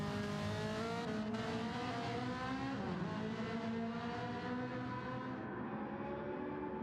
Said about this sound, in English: Cars coming through